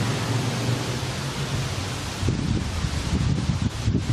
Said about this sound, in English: Wait for the wind.